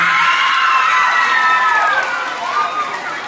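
A large crowd roars and cheers at a gay beauty pageant in Camarines Norte, Philippines, with high shouts and whoops rising over a steady wall of noise.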